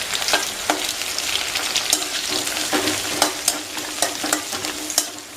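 Green chillies frying in a pan for a dates and green chilli pickle, with a bright steady sizzle and crisp, regular spatula scrapes and taps, close and fairly loud, with no talking.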